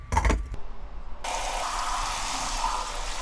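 Tap water running into a sink while soup ingredients are washed, a short clatter first, then a steady, fairly close rush of flowing water continuing to the end.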